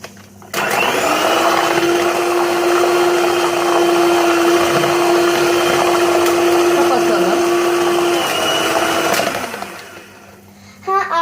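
An electric mixer beats apple cake batter in a home kitchen, a loud steady whir that starts abruptly, holds for about eight seconds, then cuts off.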